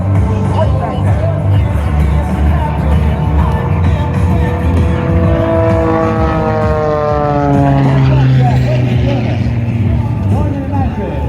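Aerobatic propeller airplane performing at an air show, a loud continuous engine drone with rising and falling pitch sweeps as it climbs and maneuvers overhead, steady throughout with crowd ambience beneath.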